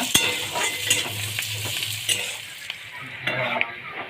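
Onions frying in a pan for a Sunday prawn curry, with a steady close sizzle under repeated scrapes and clinks of a spoon stirring against the pan.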